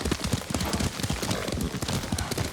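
Horse hooves clip-clop at a steady riding gait in Ghost of Tsushima, a quick, close run of rhythmic thuds lasting a couple of seconds.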